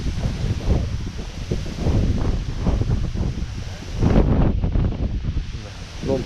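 Strong, cold, dry wind blowing outdoors while setting crab traps, gusty rumbling buffeting against the microphone in uneven surges, loud and close throughout.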